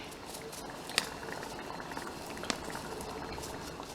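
Curry stew for Ghana jollof rice simmering in a pot, a soft continuous bubbling and patter at low level, with two brief sharp clicks and no talk.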